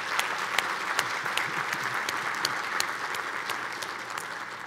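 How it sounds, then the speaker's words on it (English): A university audience applauds in a large hall during a state of the university address, steady crowd clapping with a few sharp individual claps standing out, filling the whole stretch. "let's give a round of applause and thanks for our donors, our development team, and our foundation board"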